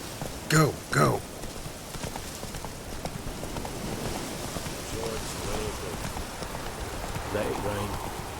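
Steady rain falling in The Witcher 3, a soft continuous hiss throughout, with two brief loud horse snorts or neighs near the start and faint voices underneath.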